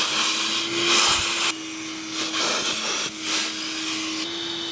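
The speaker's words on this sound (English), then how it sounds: "this obviously blows way better than air compressor because it pushes high volume of air at relatively low pressure" A blower forces high-volume, low-pressure air through an in-floor pool cleaning system's lines while winterizing, a loud steady whirring roar with a constant tone that surges and dips as the airflow changes.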